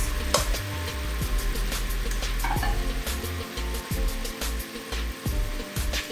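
Onions sautéing in rendered fat in a pan for Bolognese, a soft steady sizzle broken by repeated wooden spoon scrapes and knocks as they are stirred, close and moderately quiet.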